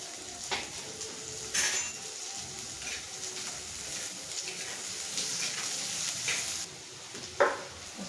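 A coarse ground paste of chilli and cumin drops into a hot pan and fries with a steady soft sizzle, with a few brief clinks and scrapes of a spoon against the pan.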